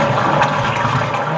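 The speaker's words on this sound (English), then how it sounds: "somebody just flushed the crap" Close, loud rush of a toilet flushing during a toilet replacement job, a steady turbulent swirl of water that continues through the whole moment with no talking.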